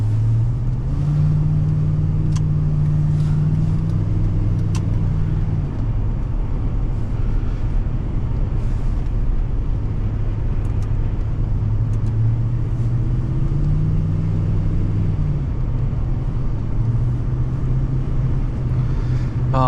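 A 2002 Chevrolet Silverado LS 2500 HD pickup with a 6-liter engine and automatic transmission drives along, a steady low engine drone and road rumble from inside the cab, rising and falling in pitch with gear changes.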